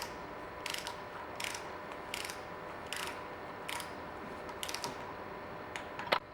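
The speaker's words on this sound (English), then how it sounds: "So after torquing the both bolts," Torque wrench clicking in short ratcheting bursts while tightening the VANOS bolts on a BMW M54 engine, about eight brief clicks spread evenly over a quiet workshop background.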